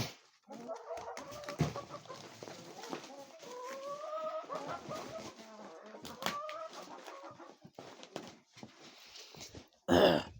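Backyard chicken coop with hens clucking and calling, several drawn-out clucks and squawks rising and falling close by, with people talking quietly and a loud rustle near the end.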